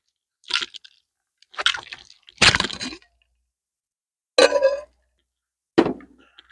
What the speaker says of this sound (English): Glass with some ice.